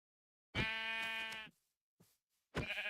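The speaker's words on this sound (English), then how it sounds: "Loving the sheep noise, by the way." A sheep gives a long, loud, nasal bleat close by, then a tiny short call after a pause, followed by another strong bleat starting up, each separated by clean silence.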